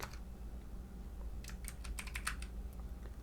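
Code being typed on a computer keyboard: a quick cluster of light, close key clicks in the second half, quiet over a low steady hum.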